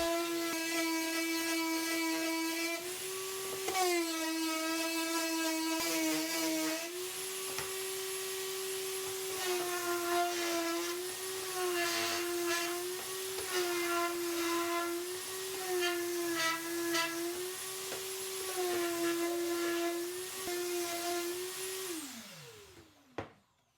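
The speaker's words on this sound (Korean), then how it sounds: "도색하기 전에 마지막으로 고운 사포로 전체적으로 샌딩을 합니다." Fine sandpaper works over a paper tea box under a steady, droning motor whine, with scratchy sanding passes rising and falling, close and continuous before winding down at the end.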